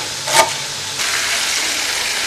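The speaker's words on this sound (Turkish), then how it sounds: "ciğerlerimiz tavada kızarırken" Steady crackling sizzle of liver frying in a pan, with a brief clatter near the start; no voices.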